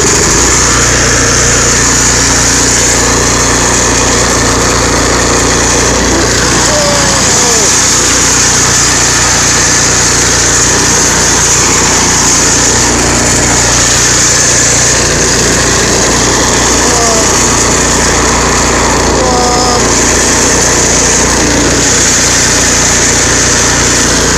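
A Troy-Bilt snowblower engine runs steadily at close range with a continuous buzzing drone, and someone's voice comes in over the engine noise.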